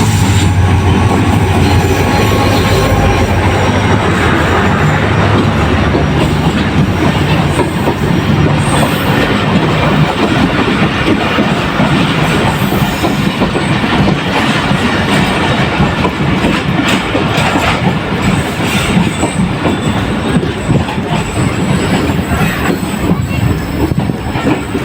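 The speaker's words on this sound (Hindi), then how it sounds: "अब Sukkur express Khairpur railway station पर अप्रोच बनाते हुए" The Sukkur Express, led by locomotive 8226, rolls into Khairpur railway station with a loud, continuous rumble, rhythmic wheel clatter and high squeals from the wheels, close by and with no talk.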